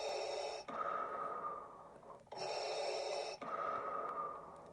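A person imitates heavy breathing after eating spicy food: three long, loud, hissing breaths, each pushed out steadily and separated by brief pauses.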